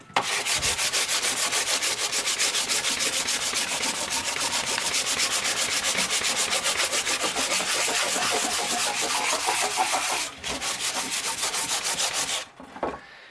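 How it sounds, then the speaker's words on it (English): A wooden tool handle being hand sanded with a sanding block, rapid rhythmic back-and-forth rasping strokes, close and loud, with a brief pause near the end and no talking. "I'll sand this down until I have a nice clean surface."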